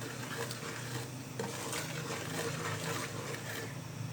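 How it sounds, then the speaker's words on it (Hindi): Semolina halwa is stirred continuously as it browns in a pan, a steady scraping and soft sizzling that holds at an even level and stays fairly quiet, with no pauses. "इसको हिलाते रहना, रुकना नहीं आपने।"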